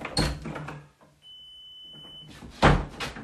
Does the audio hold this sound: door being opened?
yes